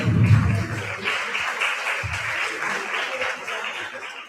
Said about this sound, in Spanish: Con un fuerte aplauso recibimos de nuevo a Aranza Alonso